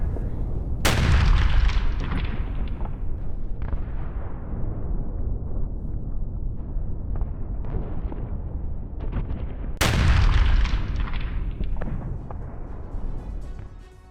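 Two heavy booming blasts of artillery fire in a war zone several seconds apart, each followed by a long rumbling decay, with continuous low roaring in between.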